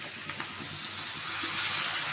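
Pumpkin sabzi tempered with fenugreek, onion and garlic sizzles in a pan, giving a soft, steady hiss and crackle that holds evenly and quietly from start to finish.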